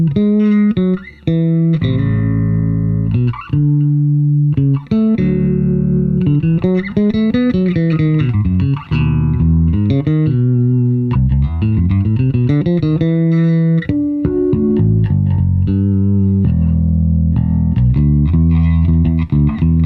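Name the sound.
jazz style passive bass guitar, Hellborg Signature DR strings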